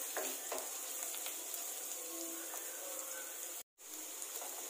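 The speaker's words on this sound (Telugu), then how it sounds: "రెండు నిమిషాలు ఆనియన్స్ మగ్గినాక మిగతా వెజిటేబుల్స్ యాడ్ చేస్తాను" Onions fry in a pan as more vegetables are added, giving a bright, continuous sizzle with faint stirring ticks and one brief dropout.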